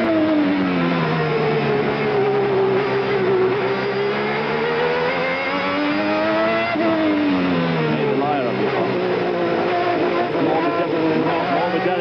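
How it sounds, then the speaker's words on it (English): Onboard a 1992 Formula 1 car racing at Estoril, a loud, sustained engine wail rises and falls through gear changes, with rough scraping of the car against the ground mixed in underneath. "you can hear the car scrape on the ground"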